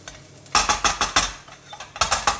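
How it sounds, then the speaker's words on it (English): Mushrooms tossed and stirred in a pan for a mushroom pie, a quick series of close, bright scraping and clattering bursts in an even rhythm, a short pause, then a few more. "I'm going to chuck the mushrooms in."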